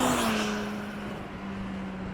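A Kawasaki Z H2 supercharged motorcycle pulls hard in third gear, giving a steady loud engine drone with a rising whine and rushing wind noise throughout.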